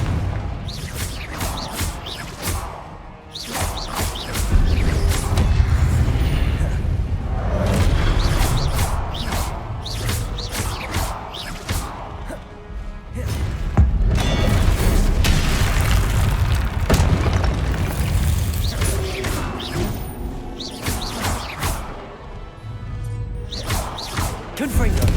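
Confringo blasting spells in Hogwarts Legacy, cast during a fight with a guardian: a series of heavy booms and bursts with whooshing flares, repeating in waves over a rumbling battle background.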